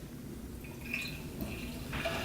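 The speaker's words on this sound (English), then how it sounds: "we're gonna go ahead and give it a pour using a tulip glass today" Lagunitas Sucks beer pours steadily into a tulip glass, a close, continuous liquid splash and trickle with faint fizzing, heard alone.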